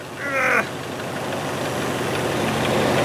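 A 1999 Volkswagen Jetta engine idles with a steady low rumble up close, while a crow caws briefly in the background near the start.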